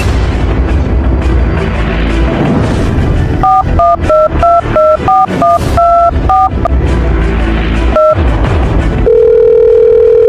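A cellphone call is placed: a quick run of keypad dialing beeps plays over a loud, rumbling background, then a steady telephone tone holds alone at the end.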